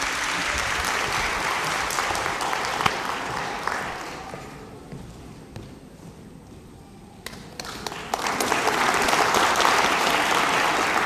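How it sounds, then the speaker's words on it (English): A conference audience at an event in Vietnam applauds as a speaker is welcomed onto the stage. The clapping is dense and steady, dips briefly in the middle, then surges loud again. "Please clap your hands"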